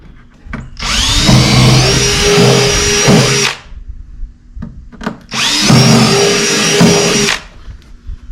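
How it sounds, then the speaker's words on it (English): A power drill whines loudly in two long bursts of about two and a half seconds each, drilling holes for a feeding trough, separated by brief clicks and handling noise. "let's get to drilling those other holes"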